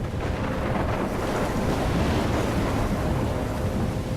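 Stormy weather in the game Life is Strange, with steady roaring wind and crashing waves in a dense, unbroken wash of noise and no voices.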